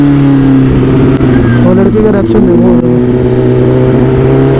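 A BMW S1000RR superbike engine revs loudly up close, its rising whine climbing and falling over a steady idle while someone talks over it.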